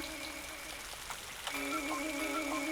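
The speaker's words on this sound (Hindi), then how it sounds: "कितनी बारिश है।" Steady rain patter with faint drips, under tonal background sound that shifts partway through.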